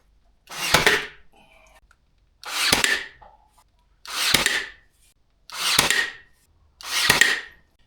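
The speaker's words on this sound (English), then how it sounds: "Now what I'm going to do is I'm just going to nail it on the back side here." A trim piece being nailed onto the back side of a motorhome's entrance: five evenly spaced, sharp, close knocks, each a short, loud burst followed by a brief silence.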